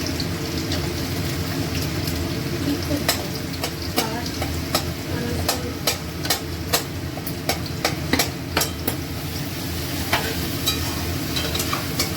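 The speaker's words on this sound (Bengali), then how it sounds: "এবার আমি আলুগুলো ভেজে নেবো।" Potato pieces fry in hot oil in a pan while cooking a banana-stem ghonto. The sizzle is a steady, dense hiss dotted with frequent sharp crackles and pops, close and fairly loud.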